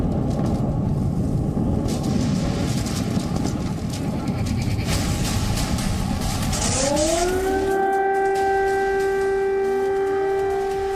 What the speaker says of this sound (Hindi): पहले सायरन बजा